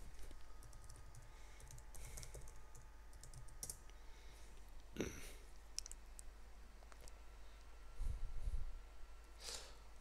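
Quiet typing on a computer keyboard running the Bodhi Linux desktop, with scattered light key clicks in short bursts and pauses, close and soft, with no talking.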